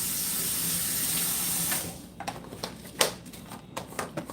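Dry bay leaf rinsed under running tap water in a kitchen: a steady rushing stream that breaks into splashes and wet patters as the leaf is handled, close and moderately quiet.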